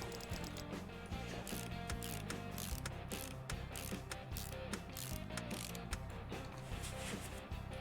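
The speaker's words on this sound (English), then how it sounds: "before we do that, we'll put the drive shaft back in." Ratcheting, clicking mechanical sounds in Car Mechanic Simulator 2018 as a drive shaft is fitted back into a car, running continuously and densely for the whole stretch with a steady underlying bed, no talking.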